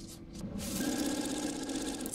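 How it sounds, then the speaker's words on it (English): A sewing machine stitches the side seams of a flower girl dress together, its motor settling into a steady, close whirring hum after a brief scrape of fabric at the start. "So put the side seams on top of each other and sew those together."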